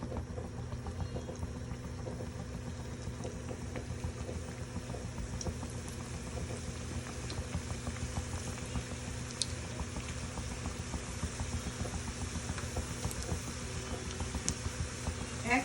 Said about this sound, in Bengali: তেল গরম হয়ে গেছে, এখন পিঠা ছাড়বো।